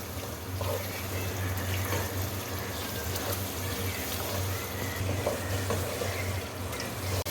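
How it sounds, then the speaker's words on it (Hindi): Masala and mutton fry in a pot for chana dal gosht, giving a steady, even sizzle with low background hum and no speech. "अब इसका मसाला हम अच्छे तरीके से भून लेते हैं।"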